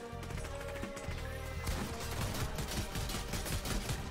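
A video game turret fires in quick repeated bursts, a rattling stream of shots at low volume that grows denser and punchier halfway through.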